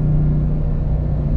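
A 702 hp Dodge Ram TRX pickup's engine on the Nürburgring Nordschleife gives a steady, loud, deep rumble with a strong low drone and no voices.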